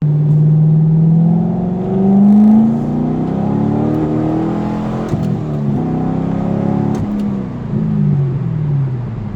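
Chevrolet C6 Corvette driving on a clutch test, its engine loud and steady with rising and falling revs as the gears change, no voices.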